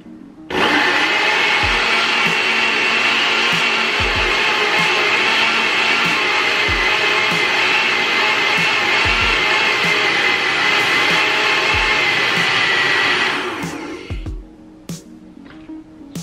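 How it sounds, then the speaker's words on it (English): A blender whirs loudly and steadily, churning aloe vera and flax seed gel to a watery consistency for about thirteen seconds, then winds down, followed by a few faint clunks. "what I'm going to do is blend this until it becomes more of a watery consistency"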